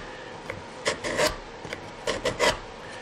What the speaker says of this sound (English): so now I'll scrape it again